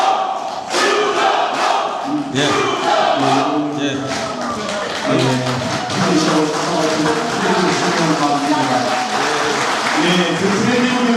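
Applause and crowd noise at a Daegu mayoral candidate event for candidate Choo Kyung-ho, with sustained clapping and voices filling the room throughout, loud and close.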